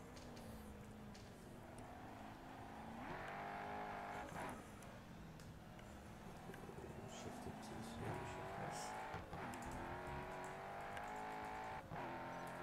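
A race car engine in the GRID Autosport mobile racing game drones and rises as it accelerates and shifts gears, with repeated revving swells and faint tire noise, mixed with a speaking voice.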